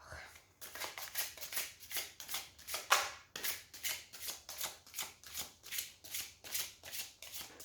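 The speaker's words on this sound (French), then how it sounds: "je vais tirer une carte des synchronicités pour voir qu'est-ce que ça va nous dire" Synchronicity oracle cards being shuffled close up before one is drawn, a steady run of quick papery riffles repeating in an even rhythm with brief pauses between bursts.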